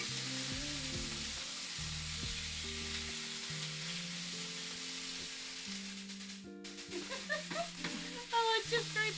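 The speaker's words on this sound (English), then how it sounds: "I know the sizzle." Chicken frying in a pan during home cooking, a steady close sizzle running throughout with a brief scrape and louder crackling spatter near the end; music plays in the background.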